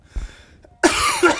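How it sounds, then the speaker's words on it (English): A single loud cough near the microphone, preceded by a brief quiet breath and soft background noise. "here comes a cough."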